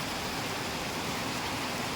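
Steady rain falling on ground and a road, a dense even hiss filling the whole two seconds, fairly quiet, with no voices.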